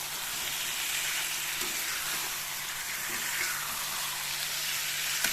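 Chicken frying in a kadai for a special chicken curry, a continuous soft sizzle and crackle with faint stirring, steady and fairly quiet throughout.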